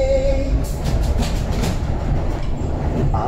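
A suburban railway train runs steadily with a low rumble and rhythmic clatter of wheels on track, heard from inside, no voices.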